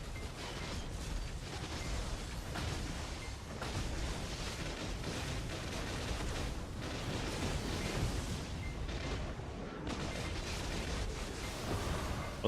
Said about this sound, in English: That explosion is wrecking me.